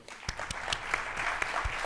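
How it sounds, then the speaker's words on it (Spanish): Brief applause from an audience at a film preview colloquium greets an actor, with distinct, uneven claps close by over a bed of general clapping. "Un aplauso para Víctor."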